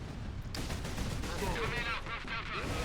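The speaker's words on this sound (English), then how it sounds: "Squigs explode." Squig exploding in Warhammer 40,000: Space Marine, a sharp gunfire-like blast and crackling burst amid ongoing battle noise, moderately loud.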